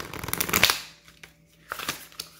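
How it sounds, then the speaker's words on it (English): A deck of cards is shuffled up close in a quick riffling burst that fades, followed by a few softer slides and taps of the cards. "Let's get another good shuffle."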